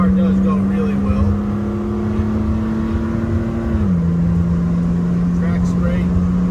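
A 1971 BMW 2800 CS accelerates hard along a farm road, its engine drone steady and close from inside the cabin, then dipping in pitch at a gear change; a voice talks over it.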